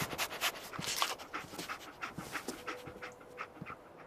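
Dogmeat, the German Shepherd companion in the video game Fallout 4, pants in quick, steady breaths up close for about four seconds, with no talking over it.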